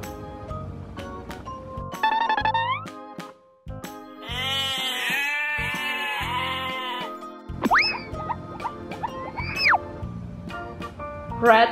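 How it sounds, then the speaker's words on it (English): A goat bleats in a series of wavering, nasal cries, fairly loud and close, with voices speaking around and between the calls. "Goat."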